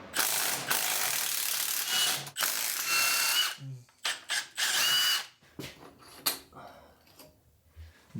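Ratchet wrench clicking rapidly as it backs out two 10mm bolts from the battery box of a Honda CRF250F dirt bike on a stand, loud and close in bursts, with brief pauses between runs of clicks.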